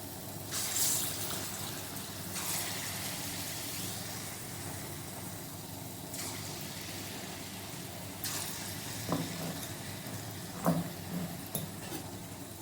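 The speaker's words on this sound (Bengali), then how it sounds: "এইভাবে একটা একটা করে বড়াগুলো আমি দিয়ে দেবো তেলের মধ্যে" Palm-fruit fritters (taler bora) dropped one by one into hot oil on medium-low heat, giving a steady soft sizzle with broad hissing bursts and a few small clinks, close and fairly quiet.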